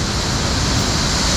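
Cypress Creek in Vancouver's Cypress Park rushes over small waterfalls, a close, constant broadband roar of falling water with no other sounds.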